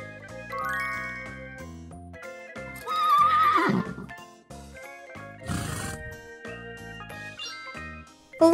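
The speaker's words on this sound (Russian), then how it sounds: "Лошадь." A horse neighs once over a light jingling children's tune, with a brief whinny rising out of the tinkling melody before the music carries on.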